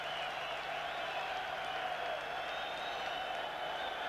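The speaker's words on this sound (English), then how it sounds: "United will have the free kick to ironic cheers from the crowd" A football crowd at a 1989-90 Leeds United v Middlesbrough match gives ironic cheers, a distant, steady roar of many voices from the stands at low level.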